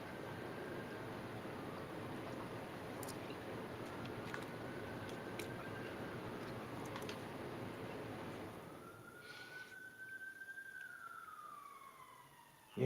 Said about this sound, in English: As you hear the sirens in the background.